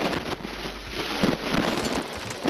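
Steady, windy rushing hiss blowing through a Call of Duty Warzone 3 match, a constant broadband gusting that holds at moderate level with slight swells and no clear voices.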